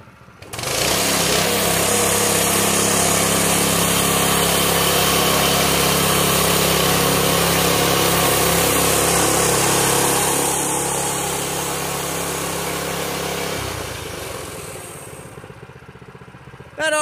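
A small Predator 212 tractor engine runs steadily and loudly at close range, a constant mechanical drone that eases off and drops in pitch near the end.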